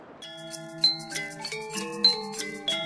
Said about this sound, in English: That's the sound of the 10 o'clock bell.